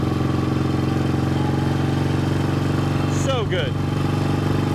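A 1972 Yamaha XS2 650cc twin-cylinder motorcycle engine runs at a steady, close, throbbing idle throughout, with a brief spoken remark near the end.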